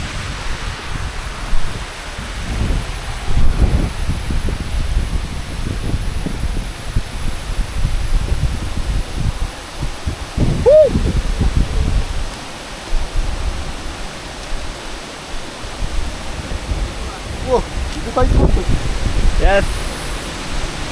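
Broadband rushing roar of the Kailasam waterfall at Sholayar, steady and full throughout, heard from close by near the top of the falls, with a few faint bursts of voices now and then over the water.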